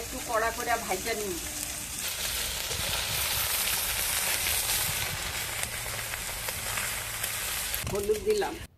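Fish sizzling in hot oil in a kadai with turmeric added, a dense, continuous close-up crackle lasting several seconds; brief speech is heard at the start and again at the end.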